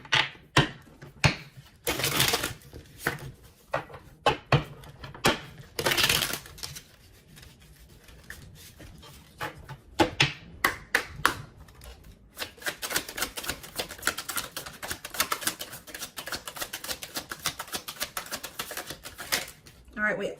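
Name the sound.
shuffling and drawing tarot cards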